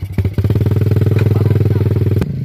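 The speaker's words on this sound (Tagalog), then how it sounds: "Kaya basig mulupad tong motor ni Makoy." Enduro motorcycle revving hard on a mountain dirt trail, a close, loud engine with a rapid pulsing throb that holds steady for about two seconds before dropping off.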